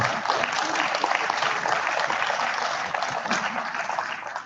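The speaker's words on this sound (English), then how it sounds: "give another round of applause to all these people behind you" A crowd applauds steadily, with dense, continuous clapping from many hands filling the room for several seconds.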